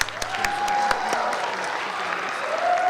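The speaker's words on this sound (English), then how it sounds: "Hand of applause." An audience at a youth awards show applauds a young award winner, a moderate spell of clapping with a few sharp claps standing out near the start, steady and slightly distant.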